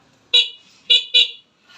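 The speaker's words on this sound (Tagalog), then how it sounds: "and then meron siyang busina" An electric bike horn honks three times, short bright toots with a buzzy tone, close and loud with a brief pause after the first.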